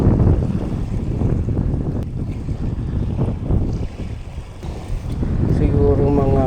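Strong wind blowing across open water beside a fishing boat near a remote island, a loud, buffeting rumble with wave wash and microphone gusts that rise and fall throughout.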